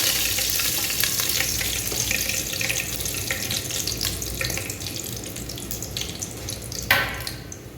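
Cloves, pepper and whole spices fry in hot oil for a bottle gourd mutton gravy, giving a continuous close crackling sizzle with scattered pops and a sharper burst near the end.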